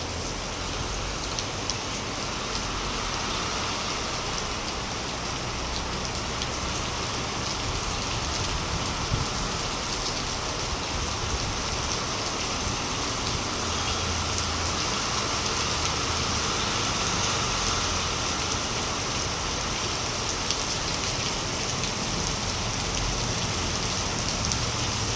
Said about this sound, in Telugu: చూసారా ఎంత పెద్ద పడుతుంది వర్షం?